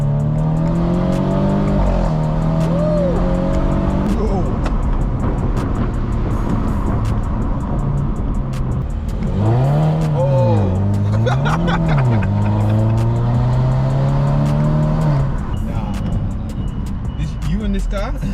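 A Mercedes C-Class car revs and drives fast, its engine note rising and falling through gear changes, loud and close from inside the cabin, with passengers talking and shouting over it.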